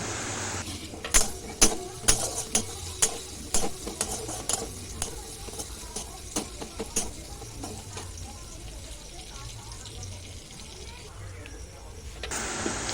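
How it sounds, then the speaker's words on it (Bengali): Green chillies and chopped garlic frying in a pan, a soft sizzle under repeated sharp clinks of a spoon stirring against the metal, with a voice talking throughout. "এবারে একটু কাঁচা লঙ্কা দেব, এরপর রসুন কুচোগুলো দিয়ে দেব।"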